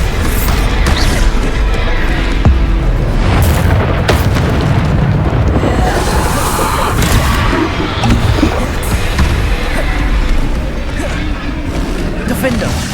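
The Bombarda explosion spell in Hogwarts Legacy booms loudly amid dense game combat noise, with low rumbling blasts and crashing effects filling the whole stretch while a voice shouts spell names over it.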